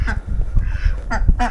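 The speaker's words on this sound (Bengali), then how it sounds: "দেখেন হাঁস মুরগি সব আছে এখানে।" Ducks quacking on a farm, several short loud nasal calls close by in quick succession.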